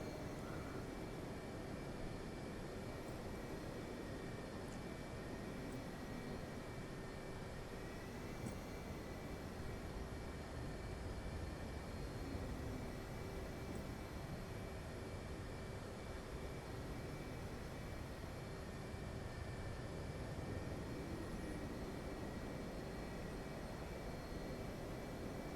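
An F/A-18C jet idles and taxis on an aircraft carrier deck in the DCS World flight game, a steady, low engine roar and hum that carries on evenly for the whole stretch, with no talk.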